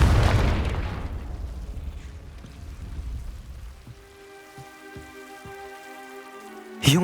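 A Confringo fire spell from Hogwarts Legacy erupts in a loud, roaring burst that rumbles and decays over several seconds, followed by quieter ringing magical tones and a sharp final flare.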